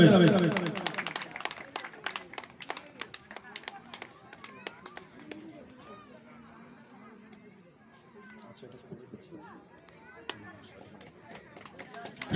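Brief audience clapping greets a community-service award at an outdoor blood-donation camp and sports and cultural event. It bursts loudly at the start and quickly fades into murmured talk, with birds chirping faintly in the background.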